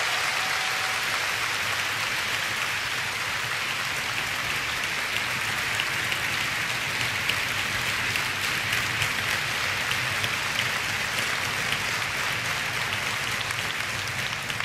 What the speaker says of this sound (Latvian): Aplausus nevajag pārtraukt ar runāšanu